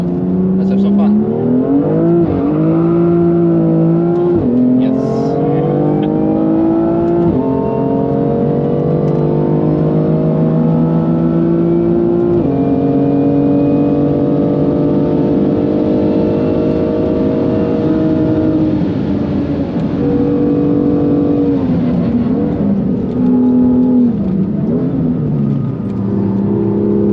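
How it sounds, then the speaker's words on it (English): A big-turbo BMW M2 on a 550 horsepower map pulls hard through the gears at the Nürburgring, engine note rising and dropping with each shift, with a few short blow-off bursts between pulls, loud and close from inside the car. "Nice blow-off sound."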